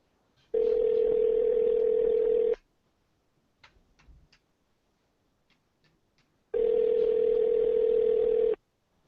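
Two long, loud telephone tones, each lasting about two seconds, separated by a quiet gap that holds a few faint clicks and small rustles, on a phone line while a number is being called.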